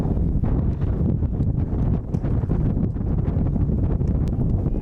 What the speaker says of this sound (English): Big gust of wind as Ridding takes a ball high and inside.